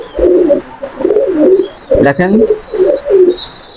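High-flying pigeons at a pigeon farm cooing in repeated soft, throaty phrases close by, with someone speaking briefly in the middle.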